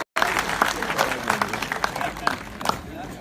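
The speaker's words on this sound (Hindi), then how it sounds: "जोरदार ताली बजाओ डॉक्टर सुमन दुबे।" An audience at a Hindi kavi sammelan poetry recital claps, a short burst of applause that starts suddenly after a brief gap and then thins out, with voices mixed in.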